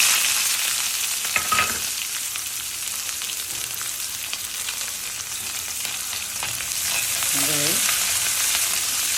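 Onions sautéing in hot oil after mustard seeds have spluttered, a steady frying sizzle with occasional stirring clinks and scrapes, close by and without talk.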